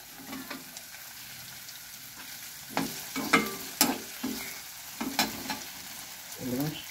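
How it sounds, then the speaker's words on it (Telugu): Potato and carrot for upma fry in a pan, a steady soft sizzle with intermittent scraping and stirring clatters, close and fairly quiet. "ఇప్పుడు బంగాళదుంప వేస్తున్నాను ముందు. వేగుతూ ఉండగానే"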